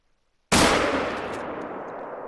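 A single loud rifle shot fired at a pronghorn antelope in a realistic hunting video game set in Colorado, cracking sharply after silence and then rolling off in a long, slowly fading echo.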